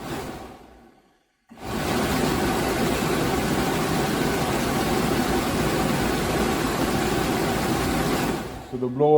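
A Jeep Cherokee 4.0 liter Limited's heater blower motor switches on after a brief silence and runs as a steady, fairly loud airy whoosh with a low hum, cutting off near the end.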